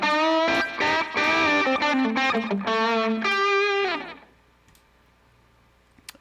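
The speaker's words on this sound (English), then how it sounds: "Tape echo. So this is based on the Maestro Echoplex EP1." Electric guitar notes played through a Helix Native tape echo modelled on the Maestro Echoplex EP1, a bright, busy run of plucked phrases followed by a faint, trailing echo tail and a couple of small clicks.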